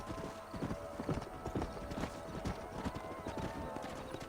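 Steady rhythmic clip-clop of horse hooves at a brisk trot in Red Dead Redemption, fairly close, with occasional whinnies and background game ambience.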